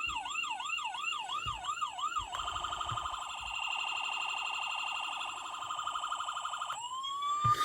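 Custom diecast West Virginia State Police utility model playing its electronic siren, first a rapid wail sweeping up and down, then a fast yelp, then a steady high tone, clear and alone.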